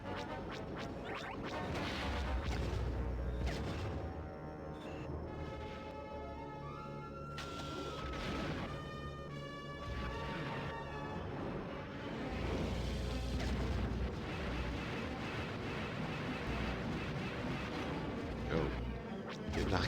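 Ion cannon fire from Y-Wings disabling yachts in the Star Wars Rogue Squadron video game, heard as dense, repeated zapping blasts and crashes over a busy layer of game music and effects.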